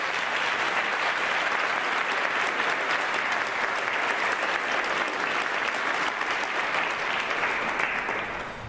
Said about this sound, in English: please join me in giving a heartfelt round of applause to our incredible community.